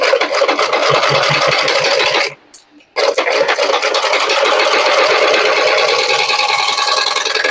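A sewing machine stitches a blouse seam, running loud and steady with a fast mechanical whir and rattle, broken by a brief pause before it starts up again.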